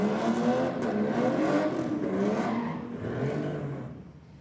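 A drag race car with a Holden six-cylinder engine runs in the lane, giving a loud, steady engine drone with shifting harmonics that fades slightly toward the end.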